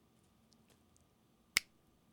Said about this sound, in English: the finger snap that I just put in there